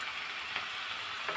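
Chopped shallots sizzle steadily in hot oil for a brinjal theeyal, a constant close frying hiss with faint stirring scrapes.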